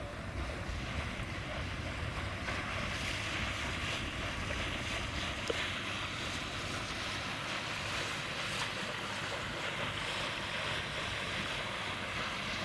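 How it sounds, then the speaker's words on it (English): A blue motor sailer approaches over open water, its passage lost in steady surf, lapping waves and gusting wind buffeting the microphone; a continuous, fairly loud wash with no distinct engine note standing out. "There's a nice blue motor sailor here coming in."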